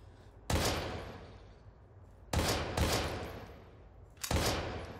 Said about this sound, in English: I'm gonna use the pistol action